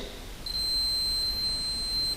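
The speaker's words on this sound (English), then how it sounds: "you can hear the beep" Continuity beeper testing the ignition switch pins on a Chevy van with a 6.2 diesel, giving one steady high-pitched tone that starts about half a second in and holds to the end over faint background hiss.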